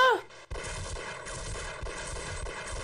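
Rapid gunfire from a weapon in the video game Half-Life: a sharp report, then sustained, dense bursts of shots that fill the rest of the moment at close range, with no voices.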